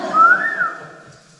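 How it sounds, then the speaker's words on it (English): A person whistles a single sustained, gently wavering note lasting about a second, close and fairly loud, in a cave dome room, then trailing off into quiet. "I whistled, but I don't know how."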